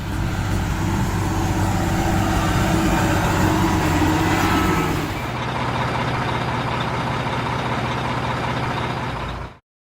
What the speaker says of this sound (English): A motor grader is heavy equipment that works by moving forward and backward repeatedly until the ground surface is completely level.